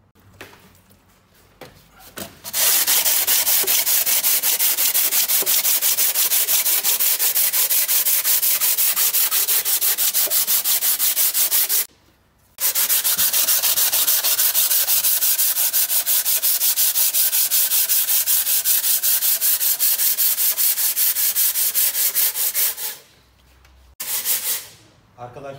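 Close, loud rubbing of sandpaper on engine bushings from a car with rough idle and power loss, two long continuous sanding passes separated by a brief pause, with a short burst at the end.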